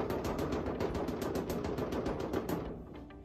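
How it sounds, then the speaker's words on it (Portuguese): Steady, dense bubbling from an air pump diffuser aerating beer wort, a rapid rattling stream of bursts that runs continuously and eases off slightly at the end. "o difusor que tá bombinha, ele fica fazendo bolha"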